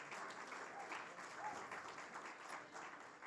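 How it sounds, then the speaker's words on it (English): Faint, distant applause from an audience at an awards ceremony during a league member meeting, a steady patter of clapping with some murmuring underneath. "Big last final round of applause."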